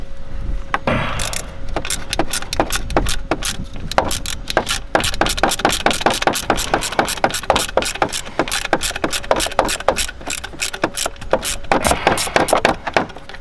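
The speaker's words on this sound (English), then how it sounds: "So I'll undo these few Torx bits." Torx bolts on a Mazda 3 or 6 thermostat housing are undone with a ratchet, producing rapid, close, rhythmic clicking that runs almost continuously.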